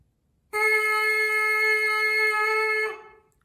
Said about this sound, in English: You're going to be doing that buzz sound into the mouthpiece